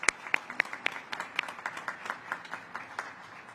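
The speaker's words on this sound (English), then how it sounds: "And a round of applause for them too." A small group at an art exhibit opening claps, starting with a few sharp, close hand claps and settling into lighter, steady applause that thins out toward the end.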